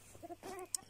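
Young hens on a small poultry farm cluck briefly and quietly, two short soft calls followed by a sharp high peep, heard close and without talk.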